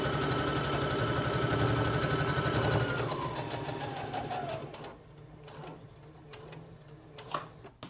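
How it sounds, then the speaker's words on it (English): A sewing machine runs a steady, rapid straight stitch across tunic fabric for about three seconds, then slows and stops, followed by a few soft clicks and handling sounds close by. "I'm going to straight stitch across again to this marking, and I'm going to stop there with the needle in the down position"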